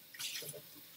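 Running water rinses a pan at a kitchen sink after soapy scrubbing, a brief close splashing rush of tap flow that swells and steadies over about a second.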